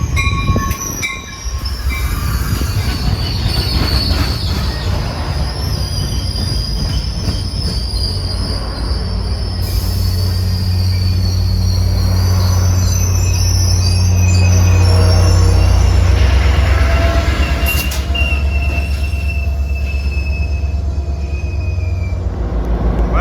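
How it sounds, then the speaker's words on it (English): A Caltrain F40PH-3C diesel locomotive train rumbles steadily past at close range, its wheels squealing on the rails, with a low engine drone throughout and no talk. "This is one of three Caltrain F40 PH-3Cs."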